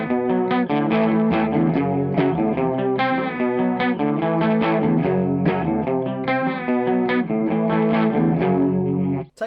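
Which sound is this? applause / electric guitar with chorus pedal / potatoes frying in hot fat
electric guitar with chorus pedal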